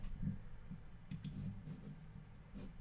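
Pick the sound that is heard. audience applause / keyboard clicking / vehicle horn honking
keyboard clicking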